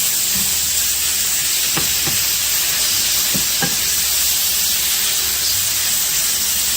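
Onions and mushrooms fry in a pan for chicken scampi pasta, giving a loud, constant hissing sizzle with a few soft knocks from stirring, close up and without speech.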